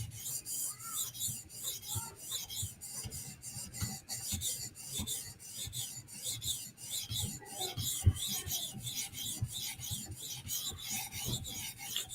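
A knife blade is scrubbed along its edge on a sharpener in quick, even, rasping strokes repeated steadily for over twelve seconds. The sound is close, fairly quiet and alone, with no talking.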